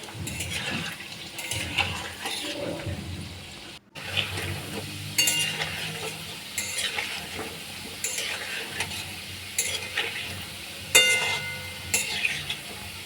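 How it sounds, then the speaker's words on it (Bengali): Round chicken kebabs frying gently in warm oil over low heat, a steady soft sizzle with intermittent stirring and scraping in the pan, fairly close and continuous. "এবার হালকা গরম তেলে এগুলো ভেজে নেব"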